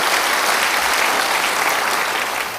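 A church congregation applauds during an Indonesian sermon, a dense, loud and sustained wash of many hands clapping, with no voices audible over it.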